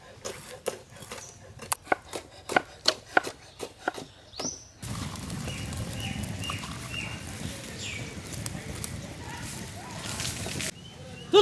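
Green chilies chopped with a knife for a big outdoor batch of mutton keema scrambled egg: a quick, regular run of sharp knocks, then a louder wash of rustling background noise, with voices around.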